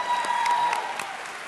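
Brief applause from an audience at the 2017 YMA Awards of Excellence gala, a steady wash of clapping in a hall with a faint tonal hum beneath it.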